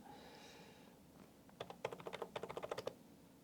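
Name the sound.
typing an amount on a computer keyboard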